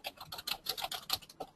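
Keys on a computer keyboard are tapped out in a quick, uneven run of light clicks, close and fairly quiet, as a search keyword is entered, with no voices.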